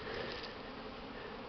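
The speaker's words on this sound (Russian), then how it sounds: "Ну, пчелы вышли." Honey bees swarming out of their hives at the start of the season, a steady close buzzing drone with no one speaking.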